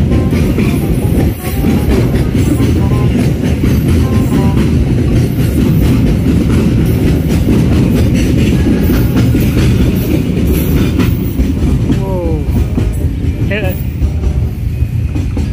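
A train rolls past on the railway near Pasar Minggu, loud and close, with a continuous rumble and clatter of wheels. Voices talk over it.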